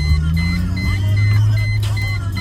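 Custom Chrysler Crossfire put in gear and pulling away slowly, a steady low engine drone close by with faint electronic tones over it.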